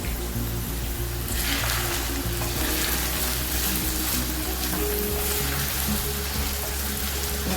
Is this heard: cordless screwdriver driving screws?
no